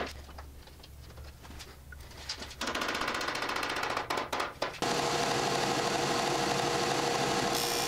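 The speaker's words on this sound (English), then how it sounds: "It's actually kind of fun to just grind them down." A power tool grinds down 3/8-inch poplar dowels, first in short choppy bursts and then settling into a loud, steady, close whine and rasp on the wood, with no talking.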